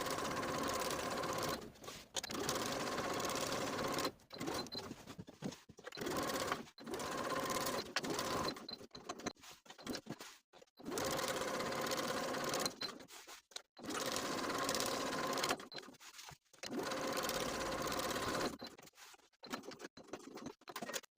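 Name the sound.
sewing machine top stitching a pocket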